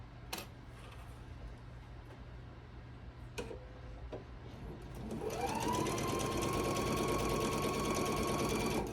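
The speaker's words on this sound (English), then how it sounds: "I'm going to sew right up until I get pretty close to that pin without running over it with my needle" Quilt block seam being sewn on a sewing machine: a quiet room with a few faint clicks at first, then the machine starts up and runs in a steady, fast, close stitching hum to the end.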